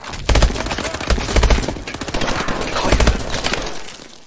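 Rapid, loud bursts of automatic gunfire and explosive shots from the video game Call of Duty Advanced Warfare, with dense overlapping reports running almost continuously.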